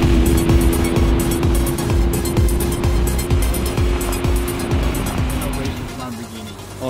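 A BMW M3 and a Lamborghini Aventador race, engines roaring loud and steady with rhythmic revving surges and gear changes throughout, with people's voices mixed in.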